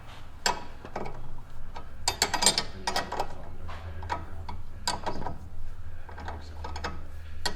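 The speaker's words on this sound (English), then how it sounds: "We are tightening the bolt that holds the tie rod in all the way" A ratchet tightens the bolt that holds a tie rod on a Daihatsu Hijet fitted with Camso 4S1 UTV tracks, giving close, rapid bursts of clicking with short pauses between strokes and a low hum underneath.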